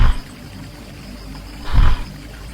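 Lion roars at a watering hole in the wild, two short, deep, loud bursts, one at the start and a stronger one near the end, with a low rumbling ambience between them.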